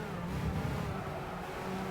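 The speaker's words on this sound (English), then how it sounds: "Sounds like an inline 5." A Jaguar XJR9 race car engine in Gran Turismo 5 at Le Mans, a steady, fairly quiet drone held at high speed for about two seconds, with no voices on top.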